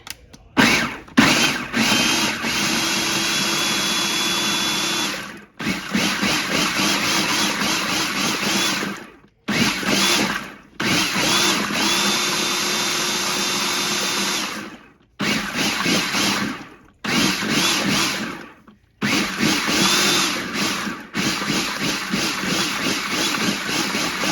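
A blender purees albondigas soup in loud, sustained whirring bursts, several starts and stops with brief pauses between pulses.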